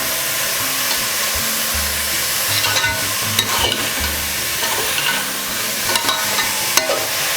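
Half a kilo of grated cabbage sizzles in a hot pan for a cabbage brinji, with repeated scraping stirs and clinks of a spoon against the metal over the steady frying hiss, close up with no voices.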